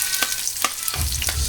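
Sliced onion sautéing with ginger in a pan for ginataang laing, a steady close sizzle with a few sharp stirring scrapes and a rougher, louder frying hiss in the last half-second.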